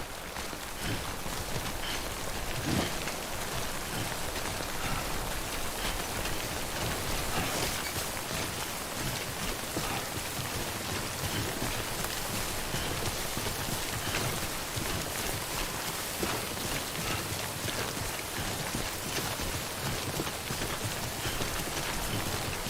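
Timefall rain in the Death Stranding video game falls as a steady, even hiss of rain on surfaces, continuous and unbroken throughout with no voices over it.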